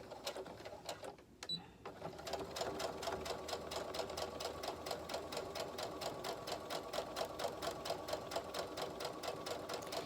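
Quiet sewing machine back stitching a fabric mask: a brief pause and a few clicks, then a steady rapid run of needle strokes in even rhythm, close and alone.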